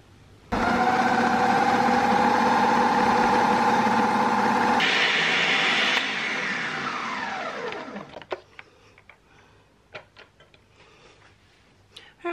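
A food processor whirs loudly and steadily as it purees deviled egg filling made with scrambled eggs, then switches off and spins down, leaving quiet handling noises and a few small clicks.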